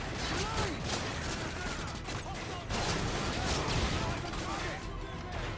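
Gunfire in the video game Modern Warfare 3 set in London, a dense continuous barrage of rapid shots and mechanical clatter, loud and unbroken throughout, with voices talking over it.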